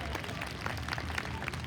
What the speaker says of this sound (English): Let's have a big round of applause for the best piper in the world